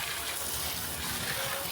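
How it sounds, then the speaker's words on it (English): Hot water running from a house tap through a Bunnings garden hose, a steady broadband gush of flowing water held at an even level throughout, close by with no voices. "So now we got hot water through the Bunnings hose."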